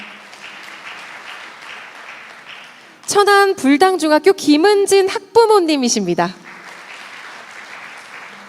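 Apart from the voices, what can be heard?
audience applause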